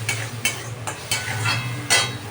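Spice paste stir-fried in a pan for a mustard pomfret curry, a steady sizzle broken by a few scraping strokes of a spatula against the pan at a loose rhythm, no voices.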